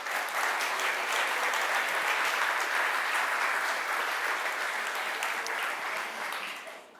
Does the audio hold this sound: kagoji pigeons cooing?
no